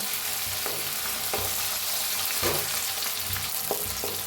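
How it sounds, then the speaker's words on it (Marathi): Crushed garlic and green chili fry in hot oil with a dense, continuous, close sizzle, broken by soft periodic stirring scrapes roughly every second. "आता मिरची चेचून घेतलेली लसूण आणि मिरची भाजून घेऊया, मिक्स करून भाजून घेऊया"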